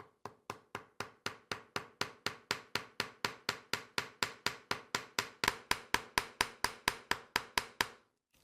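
Light hammer blows tap steadily at a briefcase lock being fitted into leather, about thirty quick, even strikes in a regular rhythm, close and crisp, with no voices.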